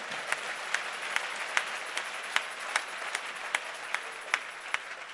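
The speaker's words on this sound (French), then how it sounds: "May all Jésus-Christ. those that loved these meetings put your hands together." A church congregation claps together in a steady, rhythmic beat of applause, with regular accented claps over a continuous wash of hands, moderately close and without talk.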